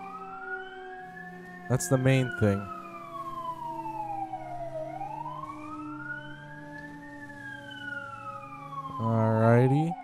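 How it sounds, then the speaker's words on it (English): A ladder fire truck's siren wails in the video game EmergeNYC, sweeping slowly up and down over a low engine drone, with a brief horn burst and someone talking over it. "Get our big boy sirens on."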